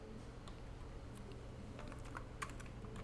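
A computer keyboard is tapped while working in CAD software, with scattered soft key clicks that cluster toward the end. The typing sounds close and quiet over a steady low room hum, with no talking.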